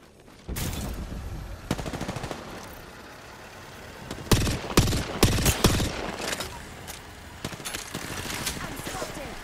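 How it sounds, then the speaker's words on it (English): Bursts of automatic gunfire in the video game Apex Legends, several rapid volleys and sharp cracks, some close and loud and others quieter, mixed with game voice callouts. "Taking fire. Getting shot at."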